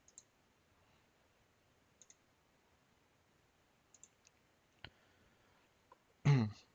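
Computer mouse clicks on a desktop while editing a configuration in software, a few faint sharp paired clicks scattered across a quiet room, ending with a louder burst of handling noise.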